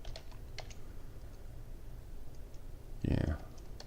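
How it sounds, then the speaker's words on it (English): Computer keyboard typing during a demonstration: a few faint, scattered key clicks, then a brief louder cluster of keystrokes near the end, all quiet against a low room hum. "You can literally type anything."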